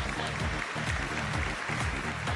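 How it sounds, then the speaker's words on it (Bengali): A studio audience at a Bengali family quiz game show applauds a right answer, giving loud, continuous clapping that holds steady for the whole stretch with a low rumble beneath it. "জোরে হাততালি"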